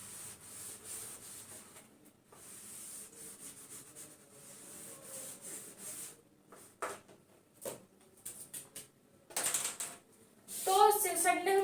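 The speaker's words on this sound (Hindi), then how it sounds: "यहाँ पे मैं इस चैप्टर की हेडिंग रब कर देती हूँ" Intermittent rubbing on a board to erase a chapter heading, faint scratchy strokes in short bursts, with a voice speaking over parts of it.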